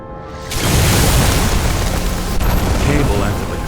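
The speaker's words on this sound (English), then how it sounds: "That's what caused the explosion." An explosion in Detroit: Become Human, set off by a flooded transformer and fuse, hits as a sudden loud broadband boom that rolls into a sustained roaring rumble, close and dense for several seconds.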